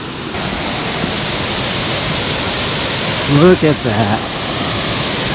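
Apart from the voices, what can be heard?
waterfall in the Appalachian mountains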